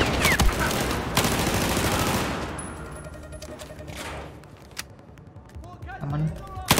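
Shotgun fire in Battlefield 4, dense repeated gunshots and a heavy blast over continuous battle noise, with game effects close up and loud throughout.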